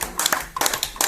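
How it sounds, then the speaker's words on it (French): An audience claps at a memorial tribute ceremony for a Cameroonian queen mother, a short burst of scattered handclaps in uneven rhythm, fairly close and moderately loud. "Applaudissons."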